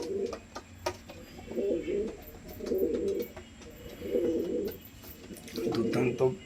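Pigeons coo in regular, close bursts, five or six soft throaty rolls, with a voice talking quietly in the background.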